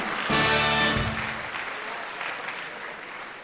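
Applause from a carnival-show audience at Mainz, a brief tonal burst of music at the start and then sustained clapping that slowly thins out.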